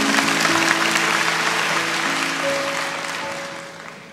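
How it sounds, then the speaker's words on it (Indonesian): A church congregation claps together during a sermon, steady dense applause that holds strong and then slowly fades over a few seconds. "Kasih tepuk tangan untuk Tuhan Yesus."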